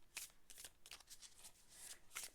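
Tarot cards being shuffled give a quiet series of crisp riffling bursts, several quick flurries in an irregular rhythm with brief pauses between them.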